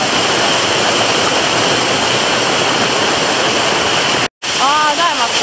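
A small waterfall hidden behind dense forest pours in a loud, steady roar, close by and unbroken, cutting out for an instant near the end as a voice speaks over it.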